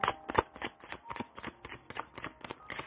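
Tarot cards shuffled by hand up close, a quick run of crisp riffling flutters in an even rhythm, no voice.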